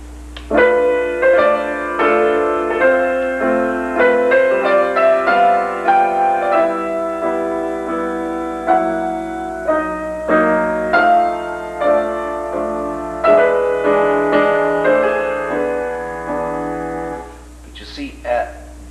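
A solo piano plays a flowing Chopin melody from Opus 17, Number 4, with clear sustained notes, rising and falling steadily, with a brief pause near the end.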